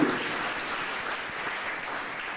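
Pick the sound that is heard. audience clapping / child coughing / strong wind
audience clapping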